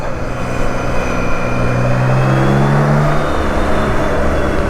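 A BMW K1600 GTL motorcycle's six-cylinder engine pulls hard on a winter road ride, a loud, smooth rising drone with climbing tones and steady wind rush throughout.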